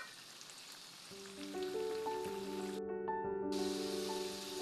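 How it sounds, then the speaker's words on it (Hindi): French fries bubble in hot oil over a low flame, a steady soft sizzle that runs under a sustained musical backing throughout. "बिल्कुल इसी फ्लेम पे मैं इनको फ्राई कर रही हूँ"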